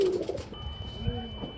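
Madrasi pigeons coo in a low, soft rumble through a short stretch, with faint bird chatter and background noise around them.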